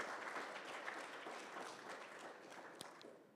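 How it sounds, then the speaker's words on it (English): Quiet applause from an audience at a community resilience fund event, a soft, even crackle of many hands that fades slightly toward the end, with one sharper knock near the close. "Give them a round of applause."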